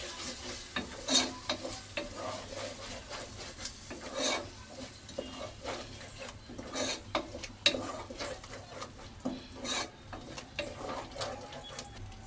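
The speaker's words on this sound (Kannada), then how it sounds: "ಈಗ ಇದೆಲ್ಲ ಚೆನ್ನಾಗಿ ಸ್ವಲ್ಪ ಎಣ್ಣೆಯಲ್ಲಿ ಫ್ರೈ ಮಾಡ್ಕೊಳ್ಳೋಣ." Ground masala fries in oil while a spoon scrapes and stirs it briskly, giving a busy run of close, uneven scraping strokes over a soft, continuous sizzle.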